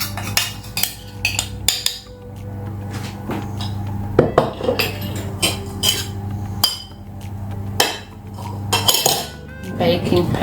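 Butter, lemon juice and flour being mixed in a bowl for blackberry cupcakes, with repeated clinks and knocks of a utensil against the bowl in an uneven rhythm throughout, close and clear.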